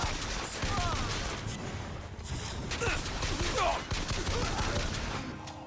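Rapid bursts of gunfire in BioShock Infinite, loud and close, firing in quick rattling volleys with brief pauses and crashing impacts, while a voice talks over parts of it.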